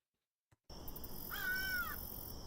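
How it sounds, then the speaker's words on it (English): A single drawn-out crow caw from an escape game audio clue, fairly faint and distant, arriving after a short silence and a click, over a steady hissing background. "And then we heard also a crow at Vero."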